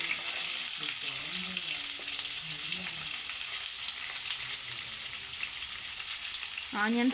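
Cumin, green chillies and onions frying in hot oil for an egg fry, a steady close sizzle running throughout with a brief stir near the end, no talk.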